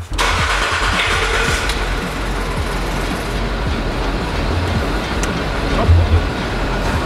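Engine of an abandoned luxury off-road vehicle cranking and catching, then settling into a steady, loud low rumble that holds for several seconds, with no talk over it.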